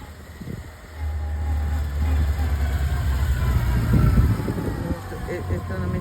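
Yamaha FJR1300 motorcycle engine running low and steady through slow-speed turns, with a constant rumble that swells slightly as power is fed in through the clutch friction zone; a voice talks over it.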